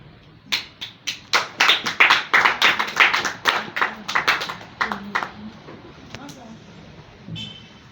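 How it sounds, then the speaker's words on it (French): Audience clapping at a French-language talk, a run of about twenty distinct, fairly loud hand claps in an uneven rhythm that thins out and fades, with faint voices underneath. "On applaudit encore"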